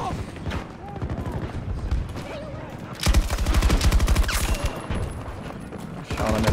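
Rapid bursts of automatic gunfire from the shooter game Battlefield 2042, loud and dense, surging into a heavy sustained barrage midway, with a player's voice talking over the shots.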